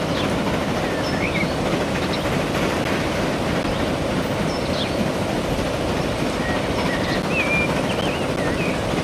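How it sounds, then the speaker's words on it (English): A train passes in the Transport Fever 2 video game, a steady broadband rumble of rolling wheels and carriages held at an even level for the whole stretch, with faint higher chirps above it and no talking. "We had a nice view of the train anyway."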